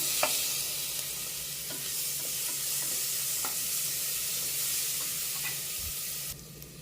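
Onions with ginger-garlic paste fry in a pan, a steady close sizzle broken by a few light utensil taps, ending with a sudden drop in level.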